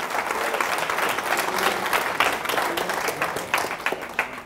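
A congregation claps through a church service, a steady, moderately loud burst of many hands with a few sharper individual claps standing out as it begins to taper.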